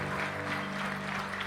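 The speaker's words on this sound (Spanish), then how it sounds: "Den un fuerte aplauso al Señor" Church congregation applauding at an evening Spanish-language service, a steady wash of clapping with a sustained tonal hum of music or organ underneath, moderately loud and continuous.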